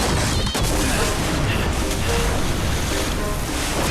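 A flood of water rushes in, loud and steady, in a Professor Layton video game as a gate gives way, a continuous close roar with no break.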